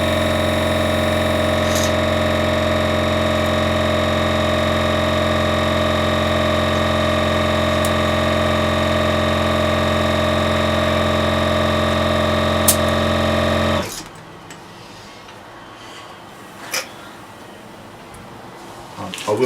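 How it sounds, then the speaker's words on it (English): An air compressor with a 15 litre tank runs loudly and steadily with a strong motor hum while inflating a tyre, then cuts off abruptly, leaving quiet room noise. "I've got a decent compressor, 15 litre air tank"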